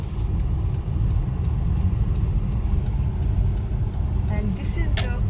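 A manual car on the road shifting into second gear and braking lightly, a steady low engine and road rumble inside the cabin with faint clicks toward the end.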